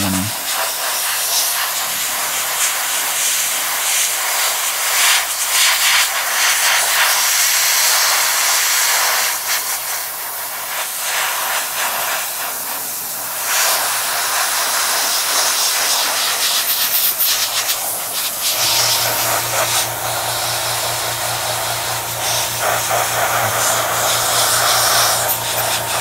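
Airbrush paint sprays onto a Sturmgeschütz III Ausf B scale model tank, a loud close continuous hiss running nearly unbroken with a low steady hum joining partway through.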